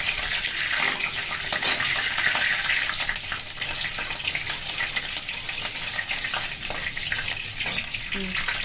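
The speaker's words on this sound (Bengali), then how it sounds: "তেলটা গরম হয়ে গেছে এবার আমি আগে তেজপাতা নিলাম গোটা গরম মশলা নিলাম এটাকে একটু দুশো দিন ভেজে নেব" Bay leaf and whole garam masala fry in hot oil for Rajasthani laal maas, a loud, continuous hiss and sizzle close by that holds steady throughout, with no voices.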